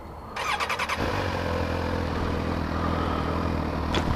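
A 2015 Suzuki GSXR 1000 motorcycle cranks with a brief rapid starter chatter, fires, and settles into a steady, loud, close idle with a low rumbling drone and a quick blip near the end.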